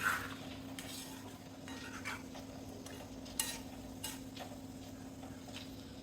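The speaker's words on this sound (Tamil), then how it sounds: "உருளைக்கிழங்க மசாலாவோடு சேர்த்து நல்லா கலந்துட்டு" A spoon scrapes and taps in a pan as potatoes are stirred into a masala curry, producing soft, scattered clinks over a steady low hum with no talking.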